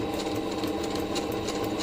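A sewing machine stitches a fabric face mask, a steady rapid mechanical whirring and ticking that runs without pause, close and alone.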